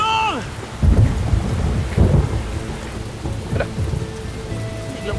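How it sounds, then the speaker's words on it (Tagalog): A sudden downpour with rolling thunder, steady rain hiss under deep rumbling claps that swell and fade, with a brief high tone at the start and no voices. "Biglang umulan."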